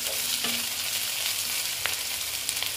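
Chopped tomato being stirred into a hot frying mixture in a pan while making paneer bharta, a steady close sizzle with a few brief scraping strokes of the spatula, no one speaking.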